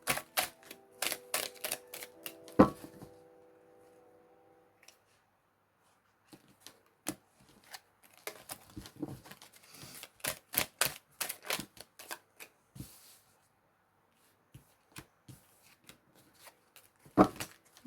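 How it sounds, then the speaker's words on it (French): Tarot cards are shuffled by hand in bursts of quick, crisp clicks and flutters, with a quiet pause between rounds and a final sharp snap of cards. "Alors là, il y a trop de cartes, donc on va remélanger."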